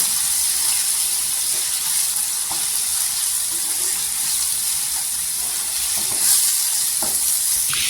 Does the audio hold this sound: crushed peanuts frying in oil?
yes